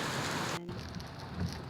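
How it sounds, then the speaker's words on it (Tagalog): Heavy rain pouring steadily at a wet market, a dense continuous hiss with a brief dip partway through, with no talk over it. "Ang lakas ng ulan."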